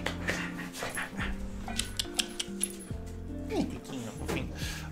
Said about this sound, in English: and my dogs are...